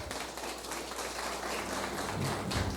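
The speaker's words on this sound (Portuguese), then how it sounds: "Pode dar um forte aplauso ao Senhor." Church congregation applauding during a Portuguese-language sermon, a dense steady wash of clapping heard at a distance with a reverberant, muffled character and no distinct voices.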